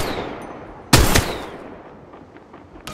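Weapons fire in the mobile battle royale game Apex Legends Mobile: a sharp, loud burst of shots, then fainter scattered pops and a final crack near the end.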